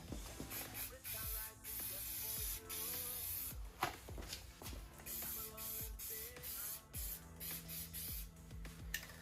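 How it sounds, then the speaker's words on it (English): Spray painting a Mercury Cougar tail light part from a 1967–68 model with satin black aerosol paint, coating both sides of its blades: steady hissing bursts in short repeated passes, close and fairly loud, with brief pauses between sprays. "It's important to spray it from both sides so you know you're getting the paint on both sides of each one of the blades"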